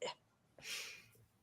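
A single sneeze indoors during a quiet conversation: a short sharp intake near the start, then a loud, breathy burst that trails off within about half a second, with no speech over it.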